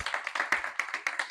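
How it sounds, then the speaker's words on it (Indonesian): An audience claps at the close of a teacher's brake-system repair demonstration during an Indonesian vocational teaching assessment, a quick steady patter of many hands at moderate distance, with no voices over it. "tepuk tangan ya."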